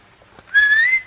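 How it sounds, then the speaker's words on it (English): A short, clear whistled note rising slightly in pitch, close and loud, after a moment of near silence. "Go ahead, Bobby, whistle."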